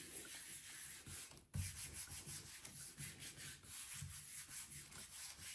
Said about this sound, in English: using my fingers, palm of my hand to rub and get around those masks, get inside them